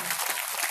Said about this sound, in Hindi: इनके लिए जोरदार ताली मिला